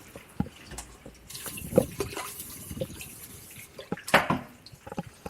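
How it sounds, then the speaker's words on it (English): Water poured into a dry cooking pan while pork schnitzel is being made gives close, uneven splashes, trickles and drips that come in bursts, with a louder splash near the end and no speech. "Put some water, this is dry"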